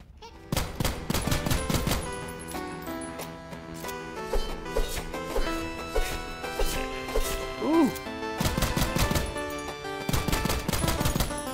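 Bursts of rapid gunfire from the video game SULFUR, loud repeated shots in clusters with brief pauses and other game sounds, while a voice talks over them.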